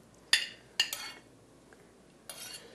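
Beets set down around a serving platter during tapenade prep with Alice Waters, giving three or four short clinking taps on the dish, close and fairly quiet, with pauses between them and no talk.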